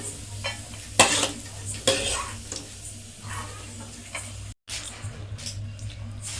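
Vegetables frying lightly in a pan at home while being stirred, steady soft sizzle with sharp clinks and scrapes of a utensil against the pan, no talk.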